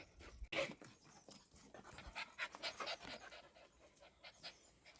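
A small dog pants rapidly close by, quick breathy huffs in a steady rhythm, with a sharp knock near the start and faint background noise in a Himachal village setting.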